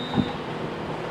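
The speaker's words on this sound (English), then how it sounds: "I think my train's actually just arrived." A train pulls in at Crewe railway station, a low steady rumble of rail noise with a faint thin tone, heard from the platform at moderate distance.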